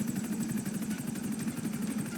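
In GTA V, the missile lock-on from an armed helicopter comes as a fast, even train of high-pitched pulses. It runs over the steady, thrumming drone of the rotor, with no voices.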